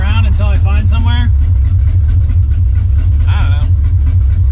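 A big-block Ford Galaxie with a new 4-speed rumbles steadily while driving, a loud, low, constant engine drone throughout, with a voice speaking briefly over it near the start and again later.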